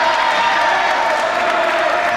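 A Dublin snooker crowd at the 1988 Millennium International Challenge claps and cheers for the Irish champion, a constant dense roar of applause with scattered whoops beneath a commentator's voice.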